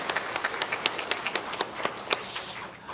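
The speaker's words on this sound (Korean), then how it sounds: "다시 한번 박수로 한번 격려하겠습니다." A church congregation claps to encourage a youth drama, with brisk, fairly close handclaps mixing into an even rhythm throughout, with no voices standing out.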